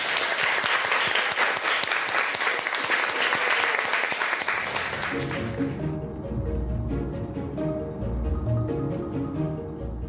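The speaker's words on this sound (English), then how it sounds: "we should all give the cooks a big round of applause" Applause for the cooks, a busy round of clapping that runs for about five seconds before fading, giving way to soft tonal music.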